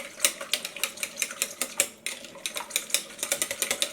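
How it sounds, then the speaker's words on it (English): Eggs and salt are whisked for homemade egg noodles, a fast steady rhythm of sharp clicking taps of the whisk against the bowl, close and alone, about four strokes per second. "crack your eggs, put your salt in, whisk it up real good."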